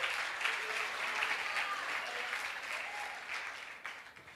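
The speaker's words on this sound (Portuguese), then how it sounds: "Aplauda mesmo ao Senhor." A church congregation at a seminar service applauds in praise to the Lord, a sustained, even roar of many hands clapping at moderate loudness, with faint voices mixed in.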